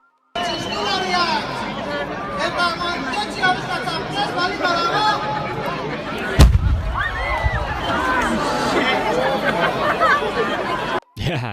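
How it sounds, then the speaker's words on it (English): A trash heap set alight with torches goes up with one sudden loud boom outdoors across a street, while a crowd chatters and shouts continuously before and after the blast. "they all put the torches down to the trash heap, and then it was just like kaboom, and it was a flash of light"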